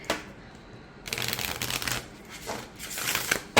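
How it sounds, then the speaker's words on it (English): Crisp riffling bursts of tarot cards being shuffled close up, two or three rapid flurries separated by brief quiet gaps. "I'm okay with shuffling it this way"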